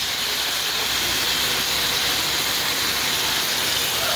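Sizzling hiss of soy sauce hitting a hot pan of sautéed upo with sardines, a loud, steady, bright frying noise that holds evenly throughout.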